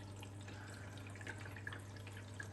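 A Blomberg RapidJET LWF194520QW 9kg washing machine fills with water in a steady, quiet rush under low water pressure, with a low hum and faint trickling.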